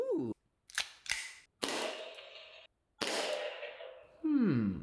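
Gel blaster firing at a battery-powered electronic target, a few sharp snapping shots followed by longer bursts of electronic target noise, ending in a warbling tone, close and moderately loud.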